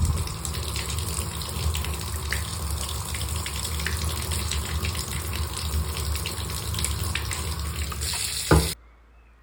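Water gushes steadily from a household tap at about 10 litres a minute during hot water boiler testing, a loud continuous rush close by that cuts off abruptly near the end.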